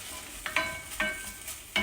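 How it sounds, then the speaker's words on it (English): Onion and fresh ingredients for a curry jalfrezi sizzle in a hot pan, a steady soft hiss broken by several sharp scraping stirs at irregular intervals, close up and fairly quiet, with no talking. "you start to get fresh ingredients sizzling in the bottom of the pan"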